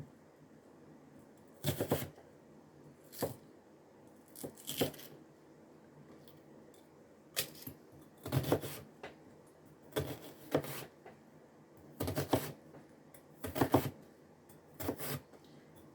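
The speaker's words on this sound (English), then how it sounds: "I take a chef's knife and cut the onion in half" A chef's knife slices through an onion on a cutting board. Distinct crisp cuts and scrapes come in short irregular bursts, close and clear, over quiet pauses.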